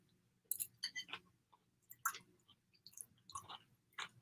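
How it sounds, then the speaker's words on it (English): Close, quiet chewing of crunchy carrots in pasta bolognese, a run of soft crisp crunches and wet squishes in an irregular rhythm with no talk. "the carrots are definitely crunchy"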